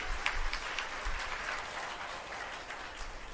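An audience claps at a devotional discourse, dense applause from many hands that is loud at first and then eases into a softer, even patter, heard from somewhat far off without talk.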